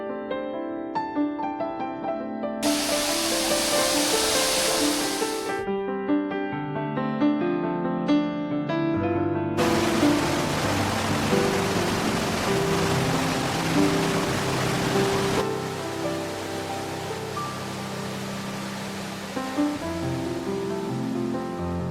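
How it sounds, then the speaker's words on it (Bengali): A waterfall on a walking trail near Gopalpur on Sea pours in a steady, dense roar of rushing water, loud and continuous, with broad noise shifting in intensity throughout. "আওয়াজ পাচ্ছেন তো ঝর্ণার?"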